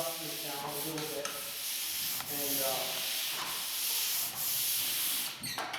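Drywall mud along an edge is sanded with a square sanding pole, a steady close rasping scrape that runs in repeated strokes with brief pauses, alone without talk.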